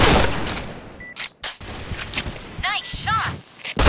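Gunfire in the Point Blank shooter game during a bomb-defusal match: scattered bursts of shots with metallic dings and announcer-style effects, loud and close, with a brief quiet gap midway.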